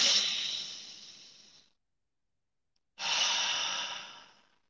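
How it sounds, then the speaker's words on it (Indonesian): Deep breaths taken during a guided relaxation exercise, two long, loud, airy exhales like heavy sighs close to the ear, each fading out, separated by a silent pause. "Tarik nafas 3 kali."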